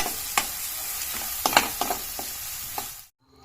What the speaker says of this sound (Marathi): त्यात बारीक चिरलेला सगळा कांदा घालायचा आहे. कांदा छान गुलाबी होईपर्यंत परतून घ्यायचा आहे.